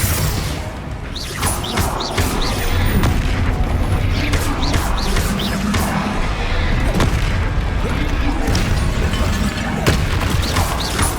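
Spell explosions from Confringo and Bombarda in the Hogwarts Legacy video game, a dense barrage of booms and crashes with dense combat effects, loud and continuous throughout.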